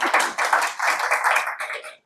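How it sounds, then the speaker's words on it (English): Audience clapping for a helper seated behind a table at a Warpstock Europe conference session, steady close clapping in a fairly small room that runs for about two seconds, then cuts off briefly before starting again. "A little applause for him."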